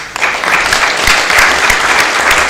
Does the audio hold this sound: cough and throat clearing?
no